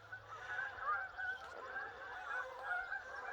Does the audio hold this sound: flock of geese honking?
yes